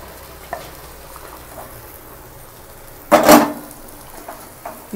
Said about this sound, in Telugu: ఈ పేస్ట్ని వేసి ఒకసారి బాగా కలపండి.